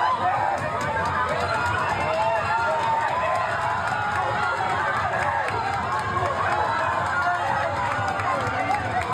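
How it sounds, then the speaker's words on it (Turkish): Crowd noise in a courthouse corridor with raised voices, clapping and agitated reactions, a dense, steady hubbub of many people shouting and talking at once throughout. "Sesler yükseliyor, alkışlar var, tepki sesleri var."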